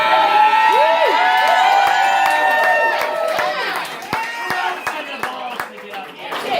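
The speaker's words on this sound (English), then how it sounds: "Let's give a round of applause to this fine collection of comedians." A crowd at a comedy show claps and cheers for a stage full of comedians, with whoops and shouts over the applause, which thins into scattered claps toward the end.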